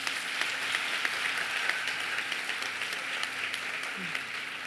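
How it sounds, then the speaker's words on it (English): Audience applause at a university welcome ceremony for first-year students: a steady, dense wash of clapping from a large crowd, sustained at even loudness throughout. "Another round of applause, please."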